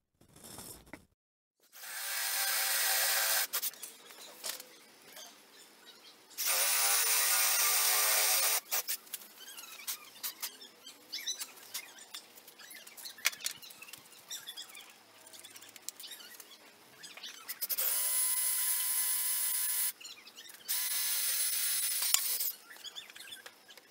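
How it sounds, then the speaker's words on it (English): A drill bores holes in melamine panels for a router table rebuild, with several loud bursts of whirring drilling separated by quieter handling clicks and rubbing. "Now it's time to drill the holes here that'll accept the bolts"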